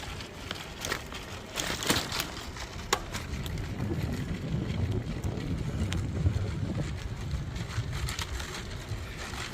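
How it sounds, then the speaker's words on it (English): Wind rushes and buffets the microphone on a bike trail near a tunnel, with a rough, gusty roar and a few sharp knocks throughout. "You hear the wind above us"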